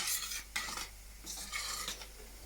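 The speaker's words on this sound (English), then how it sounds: "So I'll pour it in the sauce, just like that, and stir it around." Chickpeas being stirred into a Caribbean-style sauce in a pot, soft scraping strokes of a utensil against the pot in a few quick passes, close and quiet, with no talking.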